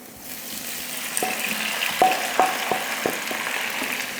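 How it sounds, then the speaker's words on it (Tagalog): Pork sautéing with garlic and onion in a pan, a close steady sizzle with a series of spoon knocks and scrapes against the metal as it is stirred. "Ginigisa ko pa to saglit lang, kahit mga 1 minute lang."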